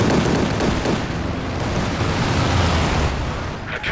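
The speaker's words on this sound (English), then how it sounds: "Okay, here comes the strafe." Strafing run explosions in Company of Heroes 2, a dense, continuous roar of blasts and rumbling booms filling the whole stretch, loud and close with no clear gaps between impacts.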